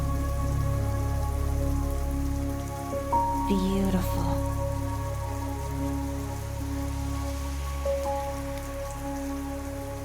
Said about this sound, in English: All in a giant downpour.